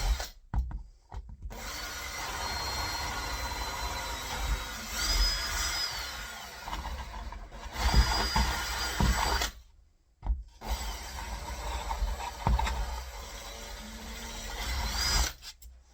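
A drill bores pairs of holes through a wooden door for a handle, grinding close and steady in several long bursts separated by brief stops, with rubbing, rasping wood noise throughout.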